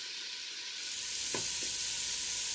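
Bacon strips sizzle steadily in a Ninja Foodi pot, a continuous bright frying hiss throughout with a couple of brief louder pops near the middle, no voices.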